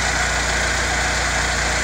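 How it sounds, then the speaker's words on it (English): A Chevrolet Malibu engine idles steadily right after an alternator replacement, a close, continuous mechanical hum with a faint regular ticking pulse and no talk. "As you can see, the engine there, or here, the engine's already running."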